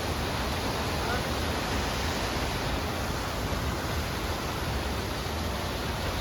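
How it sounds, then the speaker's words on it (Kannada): A small hidden waterfall in a Goa jungle resort roars as a steady, dense rush of falling water, loud and unbroken throughout. "ಸೊ ಇದೊಂದು ಫಾಲ್ಸ್ ಇದೆ"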